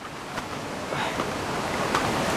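Constant rushing water of Nang Rong waterfall in Nakhon Nayok roars close by, a dense unbroken wash of noise with faint gusts on the microphone.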